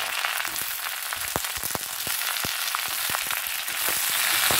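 Cut potatoes and onion frying in a pan, giving a steady bright hiss of sizzling oil dotted with irregular crackles and pops, close and continuous with no talking.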